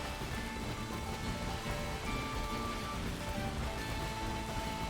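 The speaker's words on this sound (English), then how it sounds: "It's raining as well now." Steady rain falling in a Pokémon video game, a dense continuous hiss of drops with a soft low rumble underneath, even and unbroken at moderate volume with no talk.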